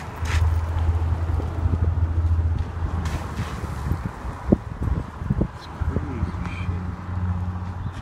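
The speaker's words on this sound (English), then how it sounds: "Winds blowing in from the north." Gusty north wind blowing outdoors under a gray, rainy-looking sky, a steady low rumble of wind noise on the microphone throughout with a few brief louder buffets.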